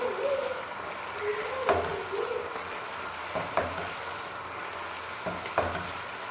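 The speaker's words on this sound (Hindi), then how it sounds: "ये देखें गोश्त हमारा भुन रहा है।" Goat or chicken meat frying in a karahi with garam masala gives a low, steady sizzle, with a few sharp clicks of stirring spoon against metal at intervals.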